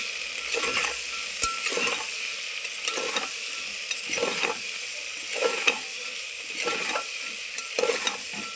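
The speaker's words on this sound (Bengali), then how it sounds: "দিচ্ছি একটু হলুদের গুঁড়ো, আবারও ভালোভাবে নেড়ে চেড়ে নিচ্ছি।" Potatoes with turmeric powder are stirred in a sizzling pan, a spoon scraping in regular strokes about once per second over a steady frying hiss.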